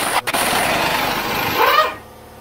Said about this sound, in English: Compressor kicked in.